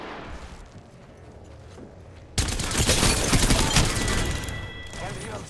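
A sudden heavy burst of automatic gunfire in a squad-based shooter game erupts after a quieter stretch, sustained loud overlapping shots with explosions, close and dominant.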